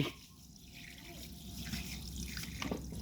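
Water runs steadily from a tap, a soft continuous splashing with faint dripping, close by and alone.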